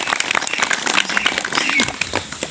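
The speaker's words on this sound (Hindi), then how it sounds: "ताली बजा" Audience clapping at a gathering in a village tola, a dense steady patter of many hands for about two and a half seconds, fairly loud and continuous, with no speech over it.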